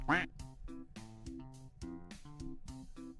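A duck quack sound effect rings out at the start, followed by a run of short, rhythmic, tonal honks and quacks, close and clear.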